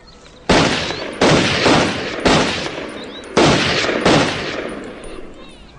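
Five separate loud gunshots are fired at cans set up about 14 meters away, each sharp crack followed by a ringing decay, spaced about a second apart in the open air.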